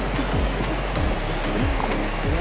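A river rushes along the trail to Hinipaan Falls, loud steady broadband water noise with gurgling swirls and low rumbling, close and continuous with no voices.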